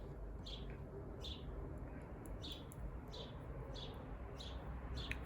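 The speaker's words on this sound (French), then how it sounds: "Ça, je crois que c'est les moineaux qu'on entend derrière." Sparrows chirp in the background in short regular bursts about every second, faint and distant over a steady broadband hiss of outdoor noise.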